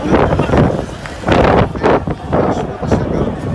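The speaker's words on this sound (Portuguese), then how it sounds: "Agora o temporal. Fechando o tempo, ventania." Strong storm wind lashing the Grande BH area in Sarzedo, Brazil, as the weather closes in before rain. The wind roars in loud, gusting bursts that rise and fall, buffeting the microphone.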